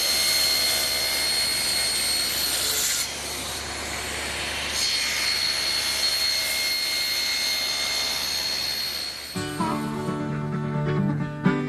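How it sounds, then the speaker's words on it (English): An ordinary blade on a table saw cutting a deep mortise in a cabinet stile, a loud, steady whining roar under load that suddenly drops into a lower hum as the cut ends. "that's best done by just using an ordinary saw blade in the table saw"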